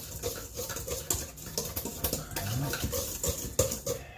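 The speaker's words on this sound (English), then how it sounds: "we're going to take this and whisk this all together" A whisk beats traditional pastry dough ingredients together in a bowl for a lemon meringue pie, producing rapid irregular scraping and tapping strokes against the bowl, close and continuous throughout.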